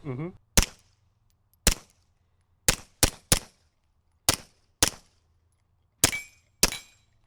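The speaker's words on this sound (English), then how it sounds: "Little James Bond gun" A suppressed .22 rimfire firearm fires nine sharp, muted cracks at uneven intervals, each dying away quickly into near silence. A voice is heard briefly at the very start.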